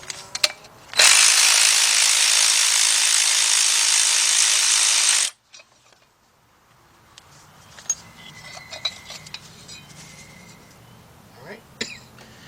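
A 13mm nut is worked loose on a Volkswagen Beetle engine, opening with a loud, sustained four-second burst of a power tool, then followed by quieter clicks and ratcheting clatter of hand tools, with faint background sounds.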